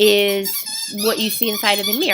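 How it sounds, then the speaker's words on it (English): A dog's squeaky toy squeaks in the background in short, high, tonal bursts, largely masked by a person speaking close to the microphone. "I apologize if you hear the squeaking noise in the background."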